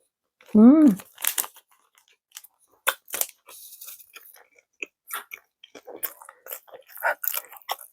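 A whole snack goes into the mouth in one bite, followed by crunchy chewing and crinkly bites in short irregular bursts, close and fairly quiet, with a brief vocal sound at the start.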